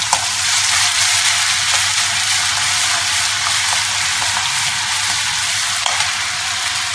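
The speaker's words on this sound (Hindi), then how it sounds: "हम इसमें जीरा डालेंगे, पहले हमें जीरा पाउडर इस पर डाला है," Cumin seeds sizzle in hot oil in a kadai for chole, a loud, steady hiss of frying that runs without a break, with a few faint pops and no voices.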